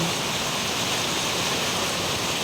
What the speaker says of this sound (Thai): น้ำไหลมาแล้วนะคะ